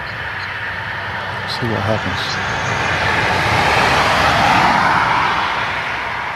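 A car passes close by at night outdoors, a broad whooshing roar swelling over several seconds and staying loud toward the end, with people talking over it.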